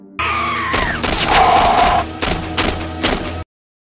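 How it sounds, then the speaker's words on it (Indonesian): Soldiers fire a rapid volley of gunshots during a zombie film scene, loud booming bursts and thuds mixed with a screaming cry, cutting off abruptly. "Tiba-tiba saja tembakan-tembakan dilepaskan yang mana ternyata dari para tentara."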